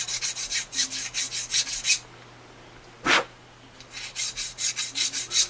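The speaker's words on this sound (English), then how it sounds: "The nut itself, I'm just going to hold it and hit it like this to get that glue off of there" Repeated rhythmic scraping and tapping on the nut of a very old Gibson jumbo acoustic guitar while glue is knocked off, a series of close, crisp strokes with a pause and one sharper hit.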